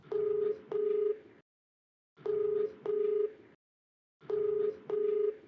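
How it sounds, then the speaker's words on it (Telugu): A telephone call rings out on the line, with a double-pulse ringback tone repeating three times, each pair separated by silence, clear and close. "మీరు ఓకే అంటే ఒకసారి కాల్ చేసి మాట్లాడండి మేడం."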